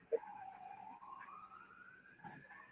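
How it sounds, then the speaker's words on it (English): A single emergency truck siren wails in a slow rising sweep, faint and at some distance, with a soft thump at the start. "That's way too fucking close for comfort, these sirens, because that's the second truck now."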